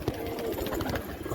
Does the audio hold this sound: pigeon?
yes